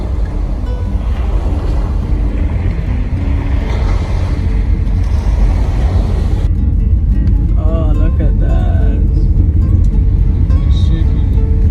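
Heavy rumbling road noise and rattling inside a moving, shaking car, loud and constant, with people talking over it in the later part.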